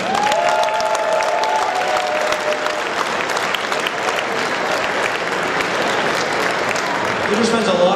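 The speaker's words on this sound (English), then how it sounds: "give them a round of applause for all their hard work" Sustained, loud applause from a large crowd at a regional awards ceremony, honoring the event planning committee; dense, steady clapping throughout with some cheering.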